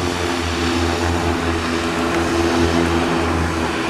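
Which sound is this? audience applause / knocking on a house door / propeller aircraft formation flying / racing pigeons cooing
propeller aircraft formation flying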